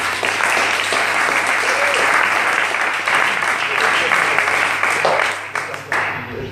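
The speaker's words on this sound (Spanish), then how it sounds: "un fuerte aplauso por ello" A crowd at an HIV awareness presentation in Logroño gives strong, sustained applause, dense and loud throughout, with a low background hum and some voices mixed in.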